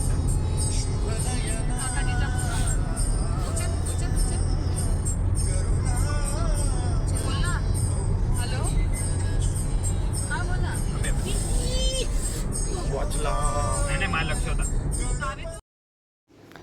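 Cars and other vehicles roll along the Samruddhi Mahamarg expressway as a constant, loud road rumble heard from inside a moving vehicle, with people talking over it before it cuts out near the end.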